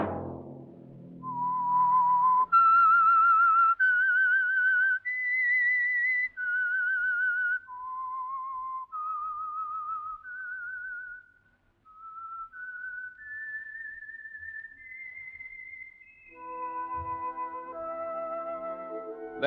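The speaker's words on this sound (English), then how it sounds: "Let that whistle be your signal for the Signal Oil program, The Whistler" The whistled theme signal of the radio mystery program The Whistler, a lone clear melody of sustained, slightly wavering notes rising and falling in a slow eerie tune, whistled close and loud.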